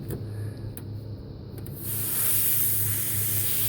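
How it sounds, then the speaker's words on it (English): Refrigerant pressure hissing out of a loosened nut on a failed Goodman evaporator coil, a steady, loud, close rush of spraying gas that swells stronger partway through and keeps going to the end. "you can let the coil pressure off by just loosening the nut"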